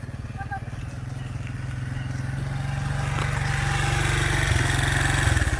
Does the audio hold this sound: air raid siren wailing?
no